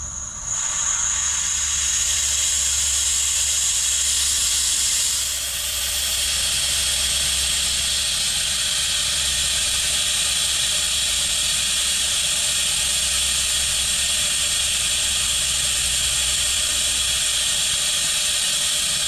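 A hand vacuum pump hisses steadily while brake fluid is bled from a 1969 Dodge Charger's brakes. The sound is close and continuous, a broad airy hiss that eases slightly after the first few seconds and then holds for the rest of the clip.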